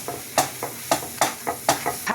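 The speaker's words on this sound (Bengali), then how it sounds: "ভালো করে ভাজতে হবে।" Garlic and flour fry in butter and oil in a pan while a utensil stirs them. About eight quick scraping strokes come in a steady rhythm over a soft, close sizzle.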